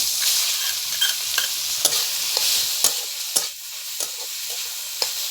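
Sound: papaya being stirred in ghee in a pan

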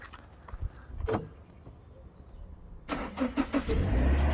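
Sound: car engine starting via remote starter

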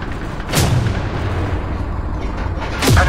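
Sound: tank cannon shot in video game Tank Company

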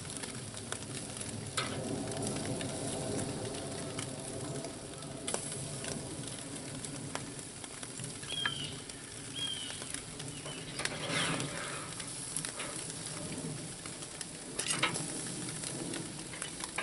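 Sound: rabbit meat sizzling while browning on a backyard barbecue

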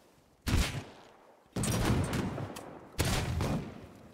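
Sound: gunfire in the video game Rust

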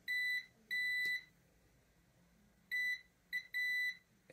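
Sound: multimeter continuity test beep

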